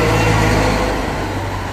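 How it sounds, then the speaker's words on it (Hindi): A snow removal machine's engine runs steadily on a mountain road in Solang Valley near Manali, a loud, continuous low rumble that eases slightly toward the end. "जब ज़्यादा स्नो हो जाती है तो ये बर्फ़ हटाने वाली मशीन से बर्फ़ हटाई जाती है।"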